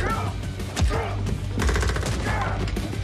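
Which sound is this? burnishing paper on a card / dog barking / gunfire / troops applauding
gunfire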